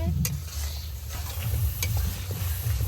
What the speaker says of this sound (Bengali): লবণ দিয়ে মশলাটা খুব ভালোভাবে কষে নিতেছি